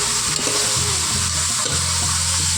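Country chicken being stirred and fried in hot oil in a pan, a loud, continuous sizzle with repeated scraping and turning sounds close by, no voices.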